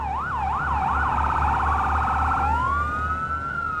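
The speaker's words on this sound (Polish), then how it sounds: "To chyba od kolegi teraz słychać te syreny." Fire truck sirens wail loud and close in the Firefighting Simulator - The Squad video game, first as a rising-and-falling whoop, then a rapid yelp, then a steady tone, over a low engine rumble.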